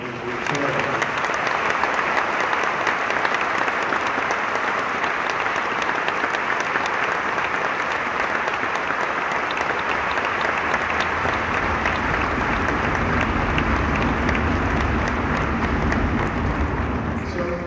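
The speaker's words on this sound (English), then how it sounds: "I just want to give Brenda and Anthony a round of applause in our festival high school." Sustained theater audience applause at a holiday pops gala at the Eastman Theater in Rochester, a loud, dense wall of clapping that continues evenly throughout.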